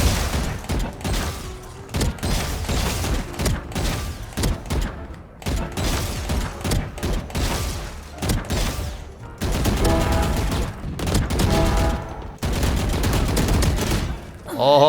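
Rapid gunfire from a shooter video game, repeated bursts of shots and impacts, fairly loud and dense throughout, with occasional brief gaps and a voice speaking now and then.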